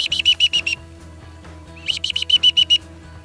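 A voice imitates a black-bellied whistling duck with two bursts of rapid, high, reedy whistled notes, each a quick series of about six to eight peeps.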